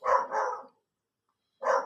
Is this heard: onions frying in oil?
no